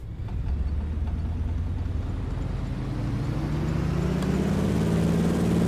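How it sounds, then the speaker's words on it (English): A small aircraft's steady, droning propeller engine builds in power and pitch for takeoff, growing louder toward the end, heard from close by with no voices. "that engine sounds nice"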